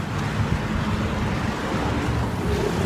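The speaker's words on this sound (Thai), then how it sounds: "ลมแรงมากตรงนี้" Strong wind roars steadily across the microphone outdoors beside a plant and ornamental-tree market during a run, a dense, continuous rushing buffet with no voices.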